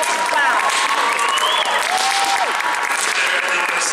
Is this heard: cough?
no